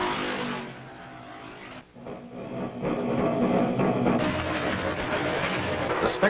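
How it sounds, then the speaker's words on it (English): Racing vehicle engines roar past at a race, loud and sustained, with a brief dip before the sound swells back up and holds strong. "the rich, round sounds of racing create a special excitement in the crowd"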